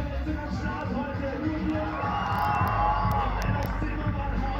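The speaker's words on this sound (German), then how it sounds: "Fett Applaus für die Platzverletzung am Start heute." A large outdoor crowd cheers and applauds at a mountain bike event, the Masters of Dirt Glemmride in Saalbach-Hinterglemm, Austria, a continuous loud roar of voices and clapping that swells slightly toward the end.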